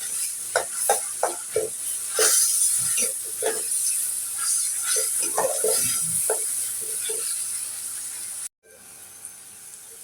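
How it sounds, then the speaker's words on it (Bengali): Onions sizzle and hiss in a frying pan for a shrimp and leafy greens dish, loud and close, with repeated scraping stir strokes over the steady frying, cutting off briefly near the end. "পেঁয়াজটা আমি ভালো করে ভেজে নিব"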